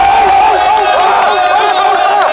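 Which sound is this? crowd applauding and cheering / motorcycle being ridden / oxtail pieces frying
crowd applauding and cheering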